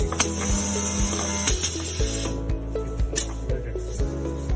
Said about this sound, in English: then pressing the clamping foot switch, then we'll start the welding